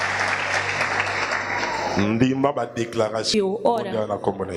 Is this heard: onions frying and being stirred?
no